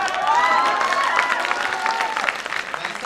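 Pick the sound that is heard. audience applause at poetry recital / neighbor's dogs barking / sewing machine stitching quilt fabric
audience applause at poetry recital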